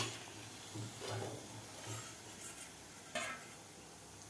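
Soya and potato pakodas with fresh fenugreek are lifted out of hot frying oil, giving a faint, soft sizzle with light scraping and clinking of a utensil, quiet and close, with no talk.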